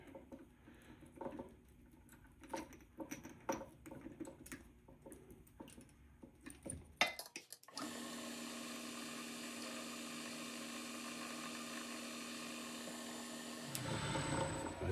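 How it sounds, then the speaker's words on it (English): A steady, sustained high-pitched mechanical whine of a number 43 drill opening a clearance hole, running continuously for several seconds, following a stretch of irregular clattering and handling noises. "Now I'll open up the top for the clearance hole. Number 43 drill."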